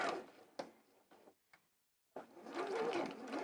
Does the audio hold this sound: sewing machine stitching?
yes